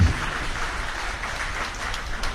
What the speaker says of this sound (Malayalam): നല്ലൊരു കൈയടി നമുക്ക് ഈ സമയം നൽകാം